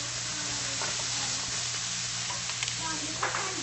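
Thin-cut sirloin sizzles steadily in a pan for stir-fry with carrots and hoisin sauce, with occasional scrapes of stirring and a low steady hum underneath; no one speaks.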